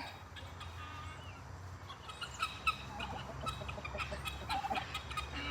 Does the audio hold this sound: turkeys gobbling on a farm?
yes